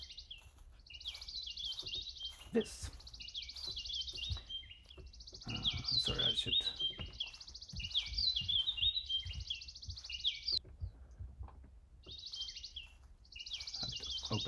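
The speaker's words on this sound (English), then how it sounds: "So we will have 2 birds playing in front of me," Recorded songbird chirps play back from an audio file in repeating bursts of bright, high twittering, with short pauses between phrases, heard under someone talking nearby.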